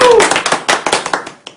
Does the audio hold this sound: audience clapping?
yes